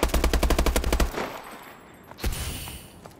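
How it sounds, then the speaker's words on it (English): Rapid machine gun fire from a dual-barrelled turret weapon in Call of Duty, a loud regular burst of about a dozen shots lasting a second, then a fading echo and a later single thud. "it's a big machine gun"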